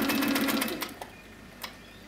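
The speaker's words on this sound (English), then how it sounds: "So I line up that line there with this edge, and I continue sewing." A Handi Quilter Sweet Sixteen sewing machine stitching quilt binding, a close rapid mechanical whir for under a second, then stopping with a couple of faint clicks and brief handling sounds.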